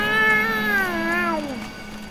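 A cat meows in the video game Dark Souls, giving one long, clear, drawn-out meow that slides downward in pitch, close and fairly loud over a quiet steady background hum.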